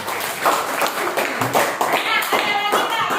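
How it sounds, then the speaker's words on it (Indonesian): A classroom of students claps for a classmate, producing a brisk, uneven burst of close hand claps that continues for a few seconds. "tepuk tangan dulu"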